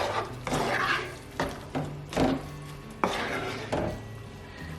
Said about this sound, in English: And I'm just going to give this a stir.